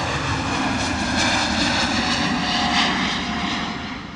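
Airbus A321 taking off at London Luton Airport in fog, a loud, steady roar of jet engines that holds for several seconds and eases slightly at the end, with no voices.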